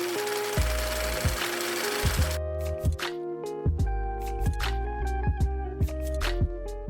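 A sewing machine stitches a rounded fabric edge flat on a long puff sleeve top, running in a steady close whir for about two seconds before stopping, followed by scattered clicks and soft handling thumps.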